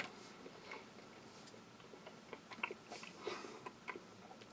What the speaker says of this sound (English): those grains are still quite firm, take a lot of chewing